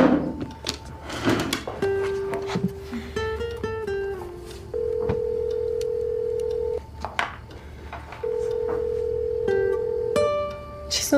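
A phone call rings out with no answer: dialing tones, then long steady ringback tones repeating at a regular rhythm, clear and close, with no one picking up.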